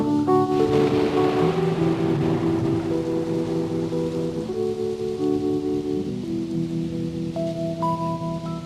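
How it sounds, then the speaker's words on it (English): Thunder and rain effect in the Doors song Riders On The Storm: steady rainfall hiss and low rolling rumble under sustained electric piano and organ chords, loud and continuous, no voices. "More thunder, bring in the thunder."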